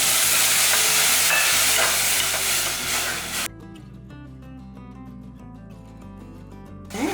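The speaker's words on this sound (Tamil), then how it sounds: "இப்போ வந்து இந்த தக்காளி எல்லாம் வதங்கிட்டு இருக்கே" Tomato paste sautés with ground masala paste in a pan for Chettinad mutton chukka, a loud close sizzle with stirring scrapes for about half the time before cutting off abruptly, leaving quieter tonal music.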